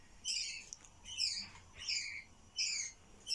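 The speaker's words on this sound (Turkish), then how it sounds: "Şu an yavruların sesini duyuyorsunuzdur." Budgerigar chicks give four or five raspy, high begging calls in separate bursts about a second apart, close and clear over a quiet background, with no voices.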